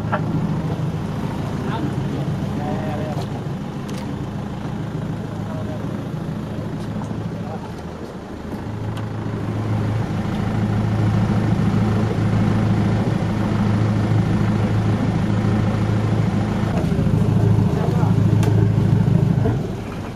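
A cruiser's boat motor drones steadily in a low register during a Menorca cruiser racing championship, with wind buffeting and some voices; the engine grows louder and fuller in the second half.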